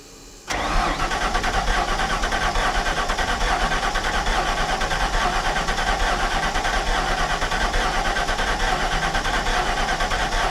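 A Ford F700 truck's large engine cranks and catches at once, then runs at a steady, loud, rumbling idle close by, with no voices.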